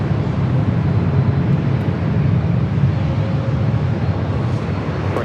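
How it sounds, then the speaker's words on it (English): Delta Boeing 767-300ER airliner at LAX, a steady loud broadband jet roar holding constant throughout, with no talk over it. "the flight to JFK, the Delta 767 at 300ER, number 2 for takeoff, now is ready"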